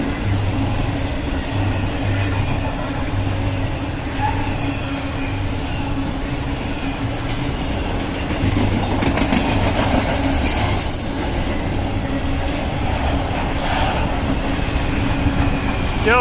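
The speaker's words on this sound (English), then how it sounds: "this intermodal faster than Rainbow Dash" An intermodal freight train rolls past steadily and close, with a constant rumble, rhythmic wheel clatter and faint squeals from the rails.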